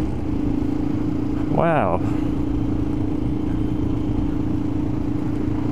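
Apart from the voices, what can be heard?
1999 KTM Supermoto motorcycle engine while riding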